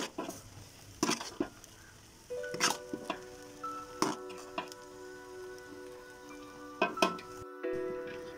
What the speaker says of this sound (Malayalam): റൈസ് ഇട്ടെടുത്ത് നല്ലപോലെ മിക്സ് ചെയ്യാം.